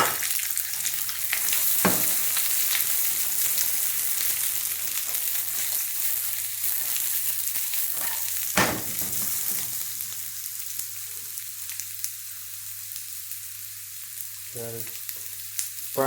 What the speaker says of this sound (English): Pan is nice and hot, so I'll put in the onions and garlic.